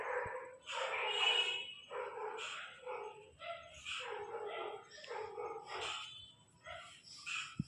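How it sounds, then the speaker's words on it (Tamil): A household dog barks repeatedly and insistently nearby, a run of loud, closely spaced barks and yips with brief gaps, continuing throughout with no talking. "எங்கள் நாய் வேற கொலைச்சிக்கிட்டே இருக்கு கைஸ்."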